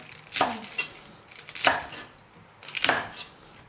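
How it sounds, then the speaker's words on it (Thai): Chinese cabbage being chopped with a knife on a board in a home kitchen, three separate bursts of quick cuts close to the microphone, with no talking. "หั่นผักกาดนะครับ"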